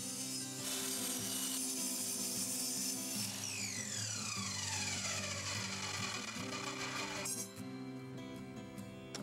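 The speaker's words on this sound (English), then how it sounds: "Now I can measure and cut legs to length, taking in account the thickness of top." A power saw cuts red cedar bench legs to length against a stop block, giving a loud steady whine that drops in pitch as the blade bites into the wood, then spins down near the end.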